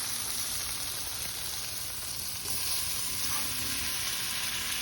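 Peppers sizzle and fry in a pan with caramelized onions for pork and peppers, a steady close hiss of oil with faint stirring, continuous throughout.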